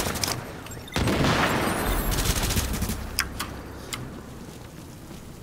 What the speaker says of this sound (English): I just hear shooting and stuff.